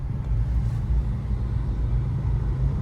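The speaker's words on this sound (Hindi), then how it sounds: "और हम बने हुए हैं इस ट्रैफिक के साथ, जो कि एज यूजुअल हमेशा ट्रैफिक ही ट्रैफिक मिलता है दिल्ली में।" Delhi road traffic rumbles as a steady, low, continuous wash of engines and tyres, with no distinct horn or voice standing out over the drone.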